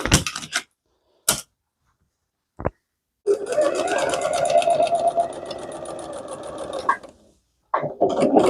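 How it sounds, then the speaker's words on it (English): A sewing machine stitches fabric apron pockets in one steady, close run of rapid mechanical chatter lasting about four seconds, set between brief handling clicks and pauses. "maybe I'll just sew a line on each side of this and make 2 pockets"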